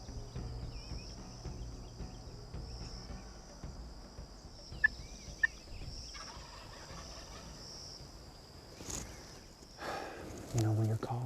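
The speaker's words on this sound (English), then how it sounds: "that gobbler sits there and sounds off" A wild turkey gobbler sounds off in spring woodland, a faint distant gobble rising over quiet outdoor ambience with scattered bird calls and a louder rustle near the end.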